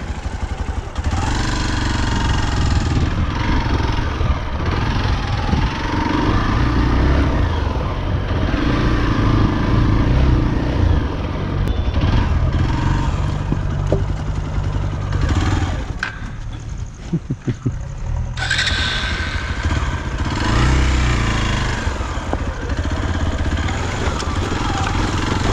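A Hero Xpulse motorcycle rides off-road, its engine loud and near for the whole stretch, rising and falling with throttle changes and easing off briefly before picking back up.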